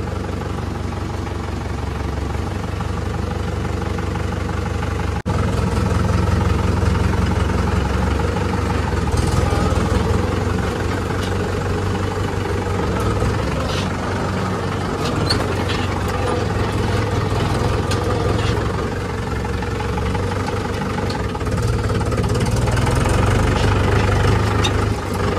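A six-year-old farm tractor with about 5570 hours idles in place after starting, a steady low engine rumble that runs unbroken for about twenty-five seconds, with someone speaking over it.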